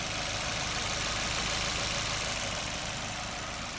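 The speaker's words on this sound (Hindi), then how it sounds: "भाई इसका इंजन स्टार्ट है और बहुत ही कम साउंड है यार।" Toyota Urban Cruiser with a Maruti K-series petrol engine idling, giving a steady, quiet low hum with faint hiss that stays even throughout, with no talking.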